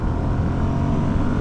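A Ducati Monster 1100S pulling hard up a ramp, its engine roaring as a dense, steady, close-up drone mixed with rushing wind noise.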